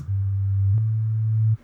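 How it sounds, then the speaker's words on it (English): A deep, steady sine-wave sub-bass tone from a trailer-style rock track holds alone for about a second and a half, with a faint click partway through before it cuts off cleanly. "I also just simply have a sub layer, like a sine wave in there."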